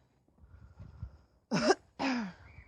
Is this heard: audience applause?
no